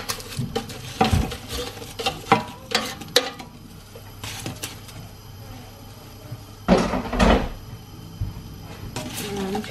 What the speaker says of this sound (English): put them in the same pan as the peppers and onions